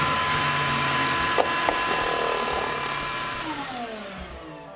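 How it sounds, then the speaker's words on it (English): A shop vacuum set to blow air roars with a steady, loud rush of blowing air, spinning a toy top, a couple of knocks breaking through before the motor begins spinning down and its pitch falls. "I'm just using a shop vacuum, but set to blow air instead of sucking it up."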